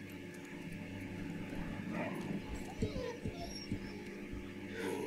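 A dog in the war game Valiant Hearts gives a few short yips and whimpers over a low game hum, fairly faint, with a voice heard alongside.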